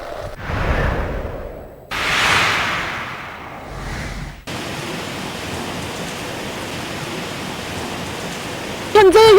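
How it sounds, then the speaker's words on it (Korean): Heavy typhoon rain driven by strong wind in the Sinpo area roars as a dense, steady wash of noise with gusting swells. A loud close crackle comes near the end. "현재 여기 신포지대는 이렇게 세찬 바람과 함께 많은 양의 비가 내리고 있습니다."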